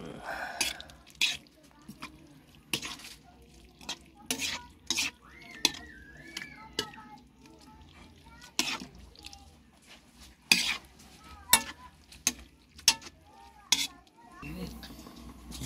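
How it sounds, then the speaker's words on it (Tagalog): Sardines and petsay being stirred in a cooking pot, with intermittent scraping and clanking of a utensil against the metal in irregular bursts, over a faint simmer and occasional quiet talk. "haluin natin"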